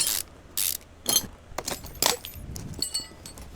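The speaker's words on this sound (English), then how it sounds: "getting all these bolts off of here" Ratchet wrench working on car engine bolts during a teardown, with several separate bursts of quick metallic clicking and clinking, fairly close, with short pauses between pulls.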